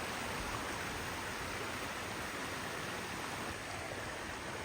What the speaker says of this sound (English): you can hear the water getting louder, and that's when you know you're close